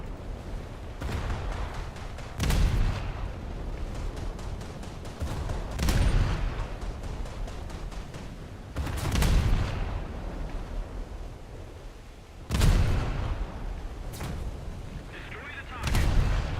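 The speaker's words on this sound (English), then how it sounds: "The shell room detonated." Heavy naval gunfire and a warship's shell room detonating in a naval combat game, with several loud booming blasts in an uneven series against a steady rumble of battle noise.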